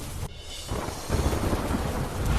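Dense, steady rain hisses loudly and close, a brief dip at the start before the wash of falling water swells back.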